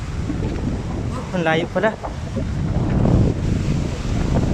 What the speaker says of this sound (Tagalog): Ang lalaki ng alon guys oh.